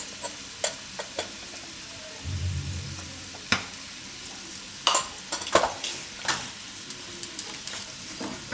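Turmeric, red chili and coriander-cumin powder fry in hot oil for dum aloo, giving a soft sizzle broken by sharp clinks and scrapes of a spoon against the pan.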